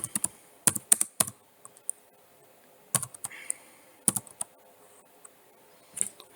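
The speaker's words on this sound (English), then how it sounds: "I can actually just type into Pinterest, Sarah Graham," Typing on a computer keyboard, irregular bursts of crisp clicks and keystrokes with quiet gaps between, close and fairly soft, nobody speaking.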